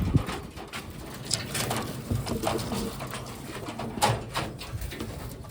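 Pigeons cooing softly nearby, low throaty calls repeating irregularly over a quiet background.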